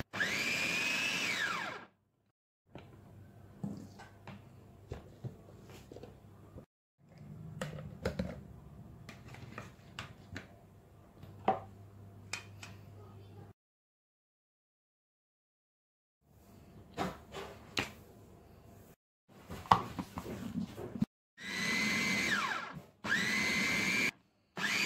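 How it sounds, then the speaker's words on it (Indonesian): An electric food chopper chops pineapple for nastar filling, whirring in several bursts of varying length separated by pauses and quieter handling clicks. "Dan semua nanas ini nanti akan saya chopper sebentar aja ya"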